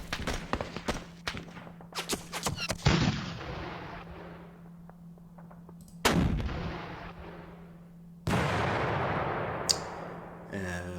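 Gunfire and artillery in the Panzer Campaigns Kiev 43 wargame, sharp rapid shots followed by several heavy booming blasts with long decaying rumbles, loud and close.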